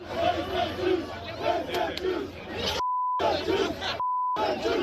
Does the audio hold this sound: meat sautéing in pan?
no